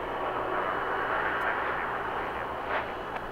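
Airplane taking off from runway 25 right at LAX, a steady broad engine roar heard from a distance, with no voices.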